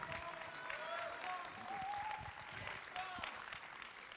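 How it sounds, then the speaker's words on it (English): Audience applause at the finals of a longsword fencing tournament, a quiet, distant patter of clapping with cheers and voices rising through it. "Applause for him as well."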